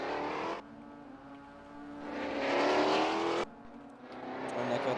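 MITS race cars lap Lakeside Castle Raceway in a video game qualifying session, their engines a loud, continuous whine that rises and falls as gears shift and cars pass, heard alone without talk.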